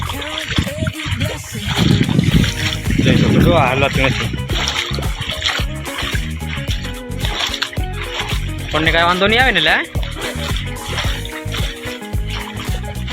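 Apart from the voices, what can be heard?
rainwater flowing through flooded cotton field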